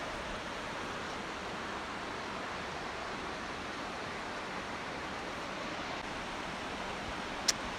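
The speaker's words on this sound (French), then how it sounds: "Belle rivière." Steady broadband rush of a river in France near the Pourcheyrolles waterfall, continuous and even throughout, heard from nearby, with no voices.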